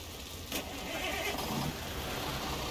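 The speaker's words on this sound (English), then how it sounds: "Let's go ahead and get in, and we'll start her up." Mack E7 truck engine starting in the American Truck Simulator game: a sharp crank at the start, then the engine catches and settles into a steady low idle rumble, close and continuous, with no talking.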